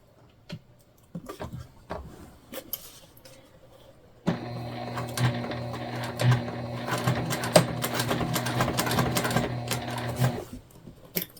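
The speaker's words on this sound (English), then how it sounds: "now we're stitching all the way over to the other mark" A sewing machine stitches a tote bag from one mark to another, starting after a few scattered handling clicks and then running in a steady, close mechanical hum with rapid needle ticks for about six seconds before stopping.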